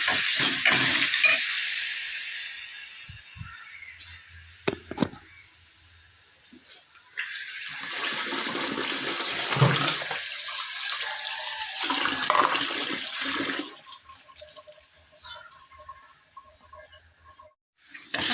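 Chopped onions sizzle and fry in a hot pan while being sautéed for a home-style rasam, a steady broadband hiss running throughout with brief clatters of stirring and quieter dips midway.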